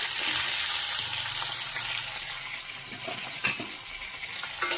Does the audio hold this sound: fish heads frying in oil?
yes